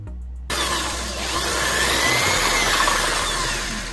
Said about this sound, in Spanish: Taladrado ya los 4 agujeros,